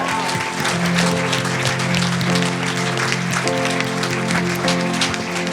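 Church congregation applauding and cheering in praise during a French-language service, steady dense clapping throughout with sustained organ or keyboard chords beneath.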